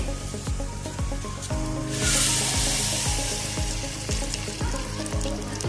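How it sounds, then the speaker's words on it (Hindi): Stuffed eggplants, filled with masala, frying in oil in a kadai, a steady sizzle that swells louder partway through as more pieces go in, with repeated soft knocks and clinks of handling underneath. "तो अब हम इनको फ्राई करेंगे।"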